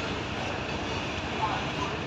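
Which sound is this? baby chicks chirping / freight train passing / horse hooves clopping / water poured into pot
freight train passing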